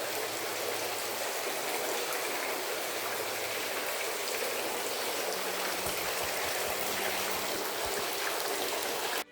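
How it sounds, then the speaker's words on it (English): Steady rain pours into a small cloister garden at Lilienfeld Abbey, an Austrian monastery, a dense, even hiss of drops on surfaces that continues unbroken with no voices. "it rains a lot at the moment"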